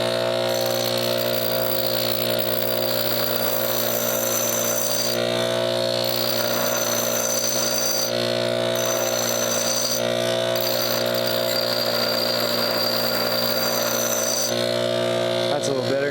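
Sharpening the blade of a Harbor Freight woodchipper gives a steady, fairly loud motorized drone with a constant tonal hum, and a brighter grinding hiss that briefly drops out a few times.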